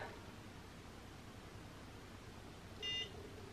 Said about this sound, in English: and it beeps, I'll show you.